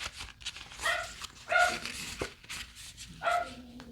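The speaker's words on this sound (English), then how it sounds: "Here's my Maddie barking" A dog barks several times in short bursts spaced about a second apart, fairly close and loud, with a faint hum beneath.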